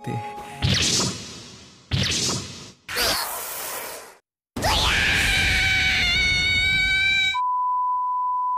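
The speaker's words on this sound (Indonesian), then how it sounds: "yang hasilnya si Senko teriak kesakitan" A girl character in the anime Sewayaki Kitsune no Senko-san screams in pain after her ear is poked, a loud cry that follows sharp comedic hits and whooshes and then gives way to a steady beep.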